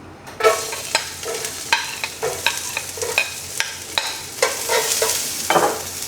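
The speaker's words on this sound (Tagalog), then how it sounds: "start na nating igisa ang bawang" Garlic sautés in a hot pan with a steady sizzle, broken by a series of sharp scrapes and taps from a spatula stirring at an irregular pace, close and fairly loud.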